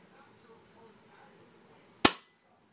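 An airsoft gun fired up close: one sharp, loud crack with a short bright tail, after a stretch of quiet low room noise and faint background murmur.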